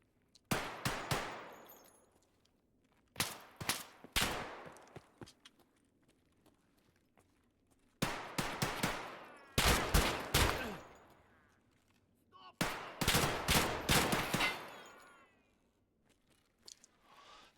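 Bursts of full-auto gunfire from the video game Escape from Tarkov come in four rapid clusters separated by quiet gaps, sharp and moderately loud with no talk over them.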